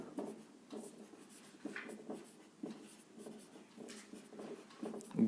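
A pen scratches across paper during a handwritten math solution, soft intermittent strokes and scribbles in short bursts, close and quiet, with no talking over it.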